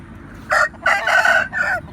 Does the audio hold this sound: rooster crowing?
yes